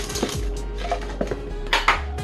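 A cup of ice cubes going into a blender for a blueberry strawberry smoothie, several hard clattering clinks in quick, uneven succession, close and fairly loud over a low background hum.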